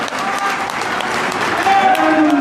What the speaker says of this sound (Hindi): एक बार नमन करना चाहिए जोरदार तालियों के साथ मेश्राम साहब को।